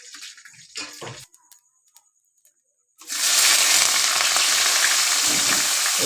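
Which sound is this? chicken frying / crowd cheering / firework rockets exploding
chicken frying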